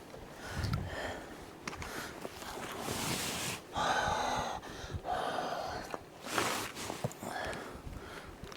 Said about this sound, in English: I'm just breathing on them a bit,